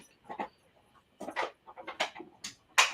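A dog whimpers and pants in short, irregular bursts, close and fairly loud, with breathy huffs and whiny cries between brief silences.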